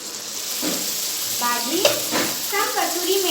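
Pav bhaji sizzles steadily in a pan as more ingredients go in, with a loud constant fry and bursts of stirring and spoon scrapes near the mic.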